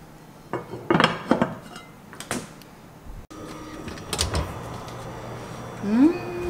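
Heavy pot taken out after about an hour and a half of oven roasting at 200 degrees with stuffed beef ribs inside, giving metallic clanks, scrapes and a door thud at close range amid kitchen noise and speech.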